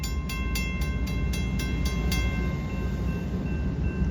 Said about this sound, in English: We got CSX doing some switching.